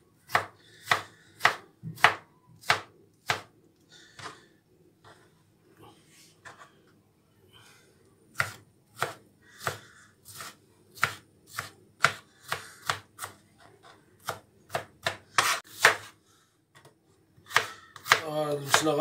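An onion is chopped for a salad, knife strikes on a cutting board coming in sharp separate bursts, some quick and some spaced, close and clear, with quiet talk now and then between the cuts.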